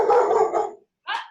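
A pet dog gives a drawn-out howling bark followed by a short, sharp yip after a brief pause, fairly close and clear with no talking over it.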